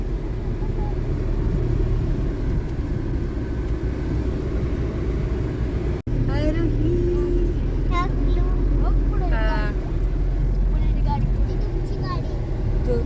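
Steady low rumble of a car driving along a farm road with a family riding inside, continuous engine and road noise throughout, with voices talking inside the cabin over it.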